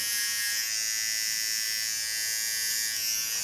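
A small electric hair clipper buzzes steadily and close up while cutting colored hair into an asymmetric design, a continuous bright whine with no pauses.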